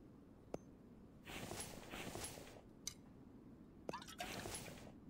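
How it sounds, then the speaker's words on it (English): Water is poured into a cooking pot in The Infected, a winter survival game, with faint drips at first, then two bursts of splashing and filling, with sharp clicks in between, quiet and without talk. "And we need to get water put into it."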